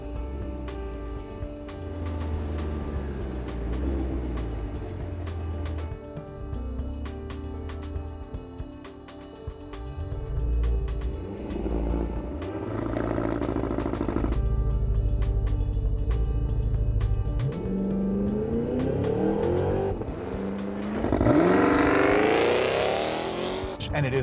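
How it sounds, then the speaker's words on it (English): A 2023 Cadillac Escalade-V doing a launch-control start: a steady engine drone builds, then a loud, rising roar surges through the final seconds as the big SUV accelerates hard. "put your right foot full down on the throttle. It goes brrr, and then you launch."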